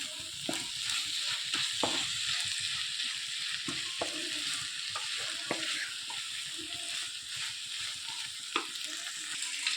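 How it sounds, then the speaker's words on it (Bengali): Spice paste and mustard paste being stirred into Malabar spinach greens with shrimp in a hot pan: a continuous quiet sizzle broken by scattered scraping clicks of a spatula. "এবার এই মশলাটা বেশ ভালো করে শাকের সঙ্গে মিশিয়ে নেব"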